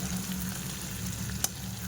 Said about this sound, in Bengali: আর এটাকে আমি একদম গ্যাসের ফ্লেমটা আস্তে করে দিয়ে ভাজছি